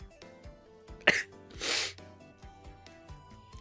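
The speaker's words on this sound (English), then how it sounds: "Also, I'm gonna sneeze, I think." A single person's sneeze outdoors, a sharp burst followed by a longer breathy exhale, close and fairly loud against a background of steady insect or electronic hum.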